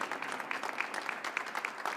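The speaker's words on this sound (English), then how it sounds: "But please, an applause for the Deputy Consul of Mexico, Rita Maciel." An audience applauds for the Deputy Consul of Mexico at a Three Kings Day celebration, producing a steady, fairly faint wash of many hands clapping from a distance with no voices over it.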